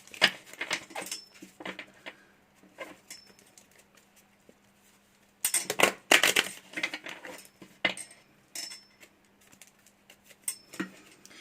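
A deck of cards is shuffled and split, making papery riffling, snapping and patting sounds in uneven clusters with a louder flurry midway, close up and with no talk over it.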